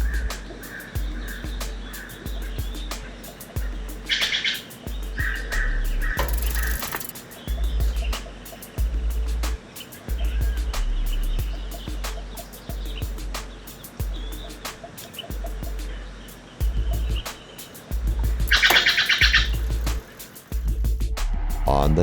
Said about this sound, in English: I relax and listen to the birds from my tent